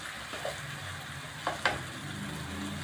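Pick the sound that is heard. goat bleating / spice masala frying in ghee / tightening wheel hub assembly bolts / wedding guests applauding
spice masala frying in ghee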